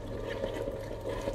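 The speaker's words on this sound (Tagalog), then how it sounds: "Ngayon i-add na po natin ang ating 1 can of milk." A can of milk pours into a pot of boiling liquid while cooking sausage spaghetti, giving a steady low gurgling splash with no talk, close and continuous.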